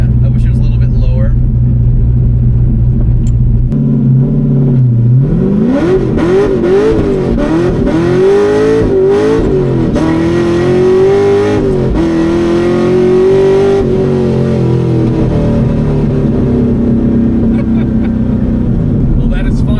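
A 500-horsepower LS V8-swapped Subaru BRZ accelerates hard through the gears, its engine note climbing and rising in pitch with a loud, raspy roar. People talk briefly over the engine inside the car.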